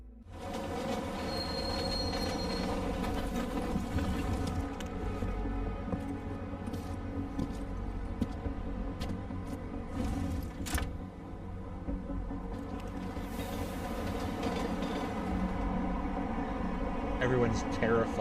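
A train in Deus Ex: Mankind Divided rolls on steadily, a constant loud rumble with wheel squeal and rail clatter. Speech is faint over the noise.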